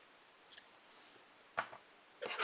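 Scissors snip through crochet yarn, a few quick close cuts in quiet surroundings, with a double snip early and a louder cut and rustle toward the end.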